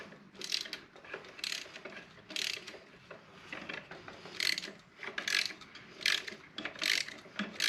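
Ratchet wrench clicking in repeated bursts while loosening bolts on a Generac 7000 EXL generator engine, close and fairly loud with short pauses between strokes.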